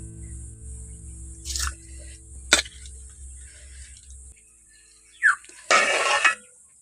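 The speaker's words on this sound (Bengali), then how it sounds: "এবার চালটা ধুয়ে দিয়ে দিচ্ছি" Washed rice is tipped into a cooking pot for prawn biryani, giving a brief rushing pour near the end after a few scattered clinks, over a low steady hum.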